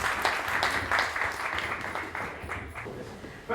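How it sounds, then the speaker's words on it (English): An evening networking audience in Birmingham applauds, a dense steady patter of many hands clapping at moderate loudness. "A round of applause, please."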